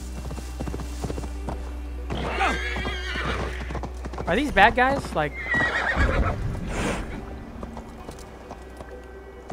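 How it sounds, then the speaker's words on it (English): A horse in Assassin's Creed Valhalla clip-clops along, its hooves thudding steadily while it lets out loud whinnies and neighs near the middle, with someone talking over the game sounds. "Very athletic horse."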